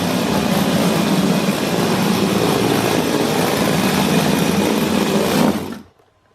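A metal tracked crawler robot chassis runs its motors on a first test drive, giving a steady, close mechanical whir and rattle that holds evenly for several seconds, then cuts off abruptly into silence.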